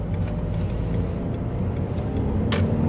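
Steady low road rumble and engine drone from inside a moving car, continuous and fairly loud, with a couple of faint brief clicks.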